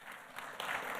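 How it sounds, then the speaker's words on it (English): Brief burst of audience applause at a regional housing summit in Southern Virginia, honoring a retiring town manager; steady, close clapping from a seated crowd lasting about a second. "he deserves a round of applause"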